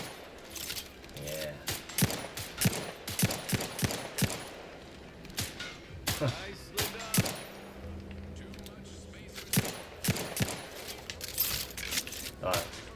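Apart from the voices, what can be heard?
gunfire in the video game The Outer Worlds 2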